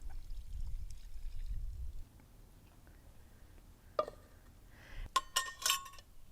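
Leftover liquid from cooking sweet potato tacos poured into a pan: a faint, low running stream at first, then a quiet stretch, followed by a few sharp clinks of metal and glass near the end.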